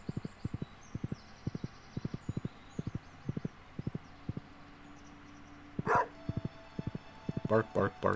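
Repeated short barks from a dog in the video game Stardew Valley, sounding in quick rhythmic clusters over steady game music, with a few louder bursts near the end.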